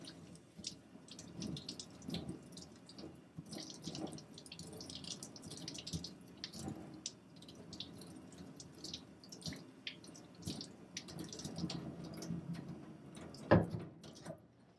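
Water from a sink tap splashes and drips over a copper intaglio plate during deoxidizing and degreasing, a quiet, steady patter with a sharper splash near the end.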